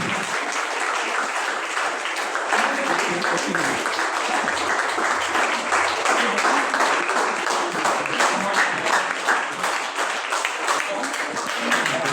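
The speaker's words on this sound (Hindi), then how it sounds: "उनके लिए एक बार जोरदार तालियां" Loud, sustained applause from an audience at a university Hindi department prize-giving ceremony, honouring a first-place speech winner; dense clapping continues steadily and close, with some crowd murmur underneath.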